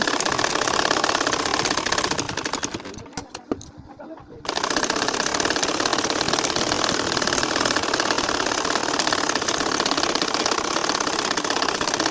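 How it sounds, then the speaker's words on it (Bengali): An ordinary domestic sewing machine stitches a nakshi kantha quilt with a steady, close mechanical whirring drone that briefly slows and stops midway before running on at full speed. "এই যে দেখো সেলাই করে নিচ্ছি"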